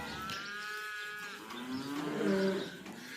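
Cows moo inside a barn, several long, wavering calls following one another, with the nearest one loud and low toward the end.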